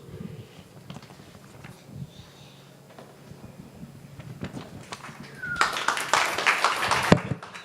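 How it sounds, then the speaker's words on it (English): Quiet shuffling and scattered noises, then an audience bursts into loud applause over the last couple of seconds. "Big round of applause."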